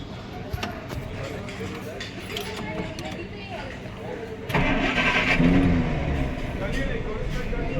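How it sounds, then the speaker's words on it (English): A 1948 Plymouth Deluxe Special car engine cranks and catches halfway through, then settles into a low, quiet idle, with people talking over it throughout. "I can start the engine and you can see it."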